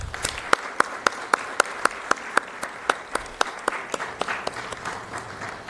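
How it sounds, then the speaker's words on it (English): Sparse, evenly spaced claps ring out one after another, a small scattered audience applause at a design week talk, with faint room noise behind it. "Please, a big round of applause."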